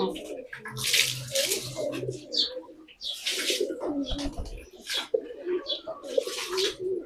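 Pigeons, apparently racing birds, cooing close by in repeated soft rolling phrases separated by short pauses, with a faint low hum in the background.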